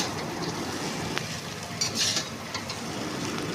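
Peanuts and coriander leaves fry in a pan for chowmein, giving a steady close sizzle with occasional stirring scrapes and clinks throughout.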